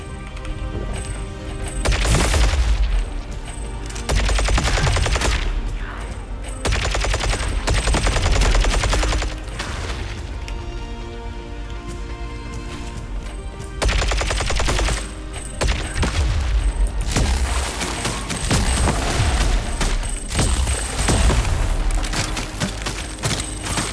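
Dense bursts of rapid automatic gunfire and booming shots come from the video game Phantom Fury, loud and near, in long sustained volleys with only brief lulls between them and no speech.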